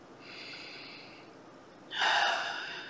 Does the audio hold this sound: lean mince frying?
no